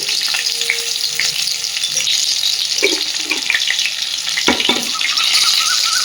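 Whole cumin seeds frying in a little hot ghee, a steady bright sizzle throughout with a few soft stirring knocks and clinks, close and fairly loud.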